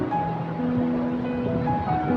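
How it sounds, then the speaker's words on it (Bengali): Sea waves rolling onto the beach at Cox's Bazar along the Marine Drive coast, a steady, continuous wash of surf with some wind noise, moderately loud and without any voices. "এত বিশাল সমুদ্র"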